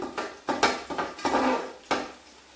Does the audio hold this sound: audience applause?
no